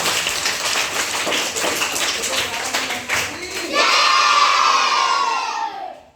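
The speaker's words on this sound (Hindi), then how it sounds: "ताली बजाइए" A classroom audience claps together, a dense burst of many hands with some shouting mixed in, swelling louder toward the end before cutting off.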